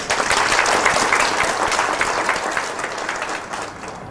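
An audience at a book concert and book talk applauds to welcome a guest speaker, dense clapping that stays strong for several seconds, then eases slightly toward the end.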